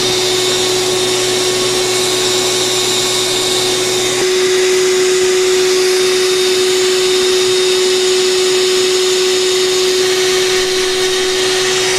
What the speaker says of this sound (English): I'm going to edit some of this pumping of the bed out, so it's not just this bed making noise